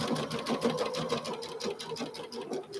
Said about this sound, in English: I'm very carefully going to stitch it all the way around.